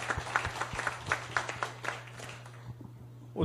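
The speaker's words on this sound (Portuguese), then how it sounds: "a quem eu peço uma salva de palmas." Applause breaks out for a speaker introduced at a Brazilian symposium, a brief patter of hand claps from a modest audience that thins out and fades toward the end over a steady low hum.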